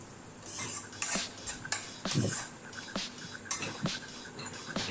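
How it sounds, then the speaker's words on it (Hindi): A utensil stirs frozen peas in a pan, making repeated scraping and clinking strokes over a faint, steady background sizzle, close and fairly quiet, with no voices. "ध्यान रहे बीच बीच में एक बार चलाते रहें।"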